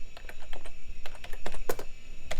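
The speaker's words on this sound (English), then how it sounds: "One-handed typing." Rapid, uneven keystrokes typed one-handed on a computer keyboard beside a 1990s desktop PC under repair, clicking in quick irregular bursts close by with no talking.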